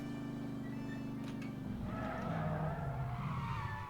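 A car in The Saboteur brakes hard, its engine note falling into a loud, sustained tire screech and skid lasting a couple of seconds, with no talking.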